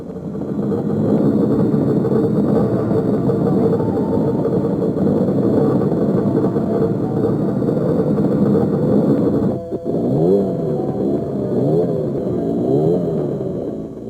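Enduro motorcycle engines running during a pre-race noise limit check, a loud continuous engine roar that dips briefly and then returns with rising and falling revs.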